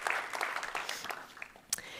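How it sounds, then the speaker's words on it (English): An audience at the MIT Europe Conference 2025 applauds with steady, moderately distant clapping for about two seconds, a few sharper individual claps standing out. "Please give a big round of applause for Florian Frauscher."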